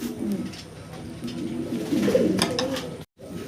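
Low, soft coos of three pairs of pigeons repeating through the clip, close and gentle, with light background rustle.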